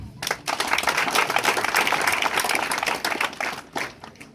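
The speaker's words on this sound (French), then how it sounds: "Applaudissez pour eux." An audience at a youth ceremony in Ongoye claps in a dense, sharp burst that swells and then thins out toward the end, scattered hands close by and no talking over it.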